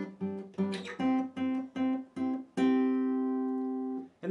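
Guitar strums the opening two chords of a song in a clean, rhythmic pattern of short chord hits, ending on a long ringing chord, close and alone with no talking.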